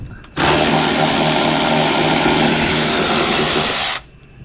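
A power tool whirs loud and close for about three and a half seconds, spinning out back seat bolts in a 1957 Chevrolet Bel Air, starting and stopping abruptly.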